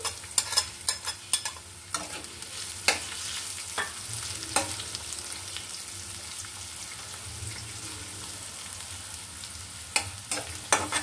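Garlic and chopped onions frying in a pan on a rooftop, a quiet background sizzle with intermittent sharp clinks and scrapes of stirring, some sounding close.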